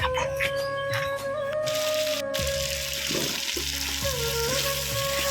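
Food sizzles and fries in a pan in a home kitchen with steady crackling, accompanied by clinks of a utensil stirring and a faint tonal hum, close and continuous without speech.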